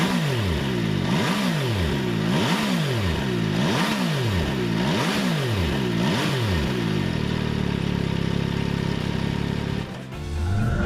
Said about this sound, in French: Le 3 cylindres conserve son échappement latéral avec ses 3 sorties rectangulaires qui n'attendent qu'une petite pression du